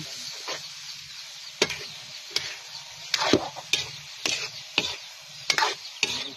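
Egg being stirred into bitter gourd frying in a pan, with a steady low sizzle broken by repeated sharp scraping strokes of a utensil against the pan, close and moderately loud, no talking.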